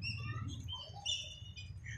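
Faint chirping calls from a flock of rooftop pigeons flying and circling overhead, heard over a low background hum with no talking.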